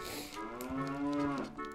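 Cows moo in Zelda: Ocarina of Time, a long, loud, drawn-out lowing call that rises and falls, heard alone with no talking.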